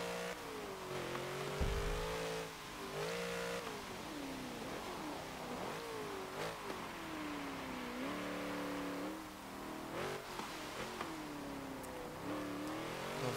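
A 1963 Volkswagen Beetle racing in Forza Motorsport 7 revs its engine continuously. The pitch climbs through each gear and drops at every shift, with several rising and falling sweeps and sharp transients, loud and up close throughout.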